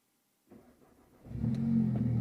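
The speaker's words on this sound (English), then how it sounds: "Let's just quickly start this car up." A car engine cranks and starts after a moment of silence, then settles into a loud, steady idle rumble close by.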